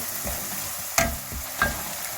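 A spoon stirring a stuffed pepper filling seasoned with mint in a hot pan: soft scraping over a gentle sizzle, with two sharper knocks against the pan.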